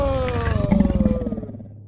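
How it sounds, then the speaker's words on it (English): A lion gives a loud, deep roar that rises into pulsing grunts and then fades away over about two seconds, heard close and alone without talk. "And then he roared very loud."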